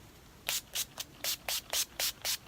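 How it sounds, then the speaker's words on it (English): Eight short bursts of NYX Dewy Finish setting spray misted onto a face in a steady rhythm, close and crisp, with quiet pauses between each pump. "I'm going to set my face using the NYX Dewy Finish Setting Spray."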